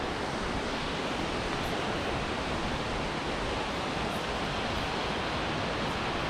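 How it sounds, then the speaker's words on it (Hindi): Steady, loud rushing roar of a waterfall along the Bhagsu waterfall trail, a continuous broadband wash of falling water with no pauses and no voices. "just look at the waterfall"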